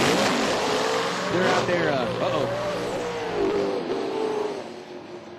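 Drag racing cars roar down the strip in an elimination round, a loud rising engine surge that swells and fades into the distance while an announcer talks over it.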